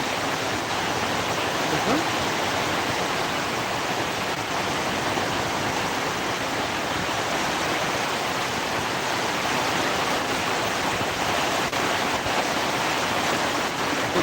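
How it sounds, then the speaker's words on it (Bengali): Heavy rain pours steadily at a village market at Shahpur Bazar near Chuadanga, a dense, loud, unbroken wash of noise that fills the whole stretch. "প্রচুর বৃষ্টি হচ্ছে"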